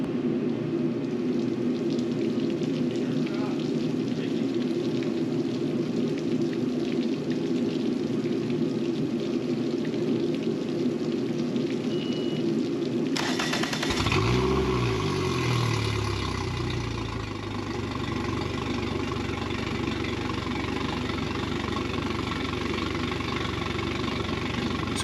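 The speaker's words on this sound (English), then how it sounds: "fire up the engine, and make sure everything works." A Mercury 115 four-stroke outboard motor idles steadily with water running through it, a continuous mid-pitched engine drone and hiss; partway through, the tone shifts as the throttle changes, with no talk.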